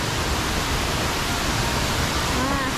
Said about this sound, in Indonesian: Selain air terjun yang di atas, di sini juga ada pancurannya ke bawah ya.